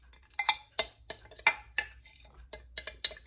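Apples with cinnamon and brown sugar stirred in a bowl with a utensil: a series of sharp clinks and scrapes, about a dozen irregular strikes against the bowl, close up with no voice.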